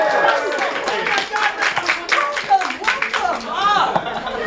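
Improv-show audience applause: a crowd claps in a dense, uneven patter with some chatter and laughter mixed in, fairly close and lively throughout.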